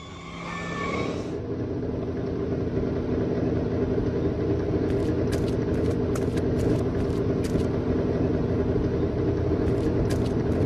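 Steady, loud, low rumble of a car engine in the Back to the Future video game, running continuously throughout with a faint high whine at the start and brief high ticks later.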